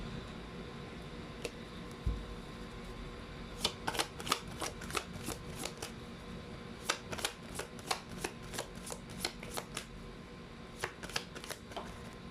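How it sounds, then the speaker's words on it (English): Fortune reading cards are shuffled close by in repeated quick riffling bursts, crisp flicking slaps in a rhythmic run, quiet overall with no talking. "Let's now pull up the fortune reading cards."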